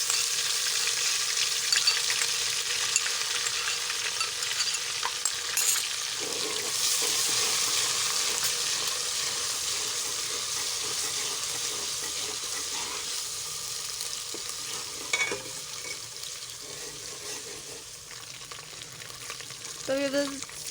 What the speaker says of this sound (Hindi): घी गरम हो चुका है। अब इसमें हम लहसुन और ये हरी मिर्च जो मैंने कूट के रखी हुई थी वो